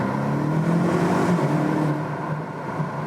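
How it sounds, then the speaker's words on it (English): A BMW M8 Competition Gran Coupé's engine rises after a manual downshift, a loud, steady drone that swells then eases slightly, heard from inside the car without talk. "we can use the manual shifting here, of course, to get down in some gears that it sounds a little bit better"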